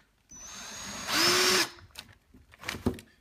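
Power drill boring a pilot hole for cabinet hardware: a short rising whir that holds steady for about half a second, then stops, followed by a few close clunks and handling sounds.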